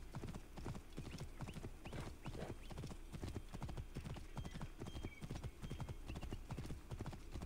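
Horse hooves clip-clop in a quick, steady rhythm in the video game Assassin's Creed Origins, close and continuous, with the faint clink of tack in the background.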